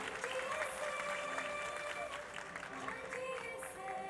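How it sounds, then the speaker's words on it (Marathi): Audience applause at an award ceremony honouring recipients, a steady sustained wash of clapping held at moderate distance with a few faint tonal sounds over it. "टाळ्या जोरदार झाल्या पाहिजे तुझ्यासाठी."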